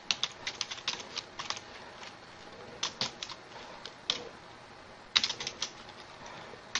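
Computer keyboard typing while entering PowerShell commands, in quiet bursts of rapid clicky keystrokes separated by short pauses, close and fairly soft, with no talking.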